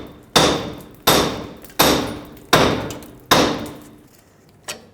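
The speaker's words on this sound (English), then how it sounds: "Take a hammer, hammer this area," Five heavy, evenly spaced hammer blows ring out close by on a steering knuckle of a 1996-2002 Toyota 4Runner, knocking the tie rod free during a front lower ball joint job, each strike sharp and metallic with a short decay.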